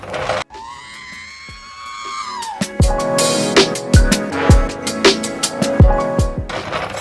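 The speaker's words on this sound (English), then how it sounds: "R2-D2 Scream intro." A loud R2-D2 droid scream: a long wavering synthetic whistle that sweeps up and down, followed by a rapid string of sharp chirps, beeps and clicks.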